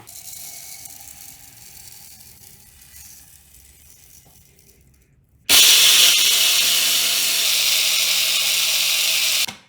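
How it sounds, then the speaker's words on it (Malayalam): A kitchen mixer grinder powdering rice with cardamom pods starts abruptly about halfway through, a loud steady whirring roar that runs on close and unbroken until it cuts off at the end, after a quieter stretch of faint background noise. "ഇത് അരി പൊടിച്ചു വെക്കണം അതിലേക്ക് കുറച്ച് ഏലക്കായും കൂടി ഇട്ട് പൊടിക്കുക"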